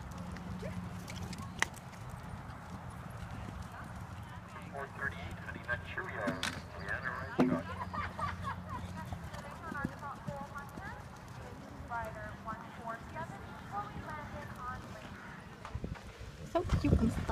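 Horses' hooves clip-clop in a steady walking rhythm at moderate distance, while people talk nearby over the sound throughout.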